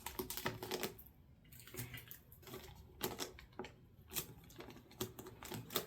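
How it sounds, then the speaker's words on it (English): Adhesive tape is pressed down onto gift wrap corners, with close, crisp crinkles and rustles of paper in short bursts separated by brief quiet gaps. "Tape our corners down."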